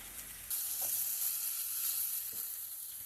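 Plantain and ginger fry in a pan with a steady, close hiss of sizzling oil, broken by a couple of faint scraping stirs.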